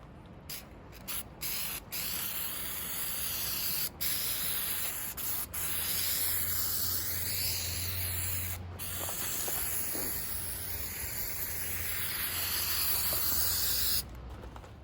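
Long hissing bursts from a Rust-Oleum stone pebble texture spray can coating model railroad ballast, close and fairly quiet, with short gaps between the opening sprays and then one sustained spray lasting several seconds.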